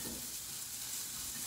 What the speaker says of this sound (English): Stir frying is technically what we call a dry process.